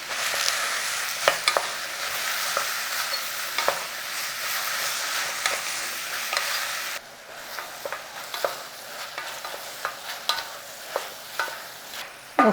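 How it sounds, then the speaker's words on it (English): Apples cooking in butter in a pan, giving a steady close sizzle with small crackles and occasional utensil clicks. The sizzle drops quieter partway through and then runs on with regular soft taps. "let's start to cook those apples with that butter"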